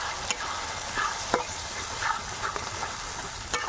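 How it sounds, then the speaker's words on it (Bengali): Spice paste with salt, sugar and turmeric for a mutton curry is stir-fried in a pan, giving a low steady sizzle broken by occasional scraping strokes and light taps. "মশলাটা আবার খুব ভালো করে কষিয়ে নেব।"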